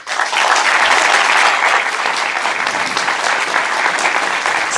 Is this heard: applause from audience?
yes